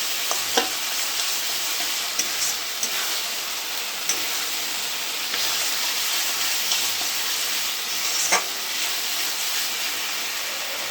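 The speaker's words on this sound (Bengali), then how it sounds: "ভালো করে কষে নিতে হবে যেন কাঁচা গন্ধটা না থাকে" Masala sautéing in a pan for rohu fish curry, a steady soft sizzle with occasional sharp spatula scrapes and taps against the pan, no talking.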